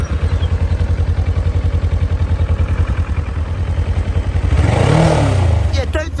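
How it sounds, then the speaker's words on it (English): A 650cc Kawasaki motorbike idles with a steady, close, pulsing chug, then revs up near the end into a rising, louder roar. "I'm just going to hop on my 650cc Kawasaki motorbike"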